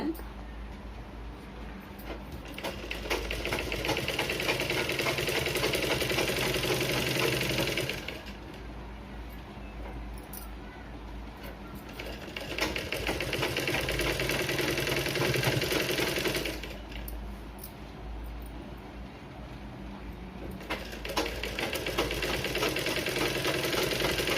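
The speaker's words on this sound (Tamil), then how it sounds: "ஒன்று போல் வச்சுக்கிட்டு தையல் போடுங்க 4 இன்ச்சுக்கு। பொறுமையாக தைங்க।" A sewing machine stitches the back piece of a blouse in three long bursts of steady mechanical whirring, with short pauses between runs and faint talk underneath.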